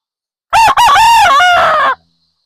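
A single loud, close rooster crow, a full cock-a-doodle-doo lasting about a second and a half, heard alone against silence.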